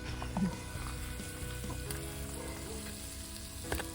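Food fries and sizzles in a pan on a campsite, with soft stirring scrapes and small clinks layered over a steady, quiet crackle and no talking.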